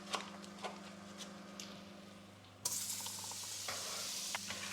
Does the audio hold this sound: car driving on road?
no